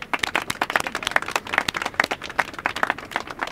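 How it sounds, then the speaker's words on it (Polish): Audience at a Wrocław mayoral campaign event applauding, a dense patter of many hands clapping steadily at close range for several seconds with no speech over it. "Jeszcze raz wielkie brawa."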